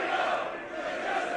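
Wrestling crowd chanting at a live What Culture Pro Wrestling show, a dense sustained roar of many voices holding steady and loud throughout.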